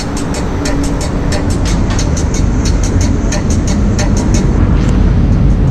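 A metro train carrying passengers, heard from inside as a loud, steady rumble with rhythmic clacking over the rails throughout.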